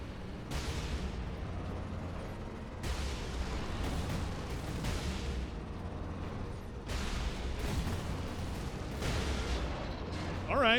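Lascannon fire and explosions boom repeatedly in the video game Warhammer 40k Space Marine, heavy blasts rolling in dense waves, with a voice talking over the battle.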